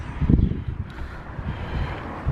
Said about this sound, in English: Oh, windy today. Super windy from the north